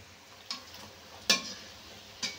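Taler bora, palm fritters, fry in hot oil with a soft, steady sizzle, broken by three faint ticks or pops spaced across a couple of seconds.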